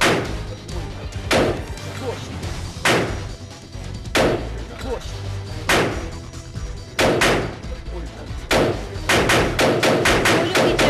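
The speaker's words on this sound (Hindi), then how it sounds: "खतरनाक आवाज यकीनन आपने भी सुन ली होगी। फायरिंग का ये सिलसिला तादेर जारी रहा" Sustained gunfire during a crime incident: repeated loud sharp shots in irregular bursts, some isolated and others clustered, with no talk between them.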